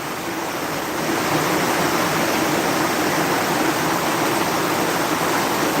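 Very heavy rain pours down in a steady, dense roar that stays loud and unbroken throughout, with no voices over it.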